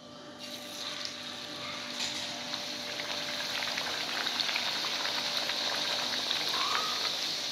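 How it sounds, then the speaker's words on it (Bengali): Luchi, mango-filled puffed flatbread, deep-fry in hot oil in a kadai, a continuous bubbling crackle that builds slightly louder after the bread goes in, with no talking. "এবার আমি একটা একটা করে লুচি ওর মধ্যে তেলের মধ্যে দিয়ে ভেজে নেব"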